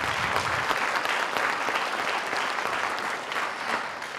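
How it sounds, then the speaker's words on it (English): Audience applause at the South Kitsap Laurels Night 2023 ceremony greets a $1,000 Performing Arts Scholarship winner, a dense, steady roar of many hands clapping that holds evenly throughout. "Let's give her a round of applause."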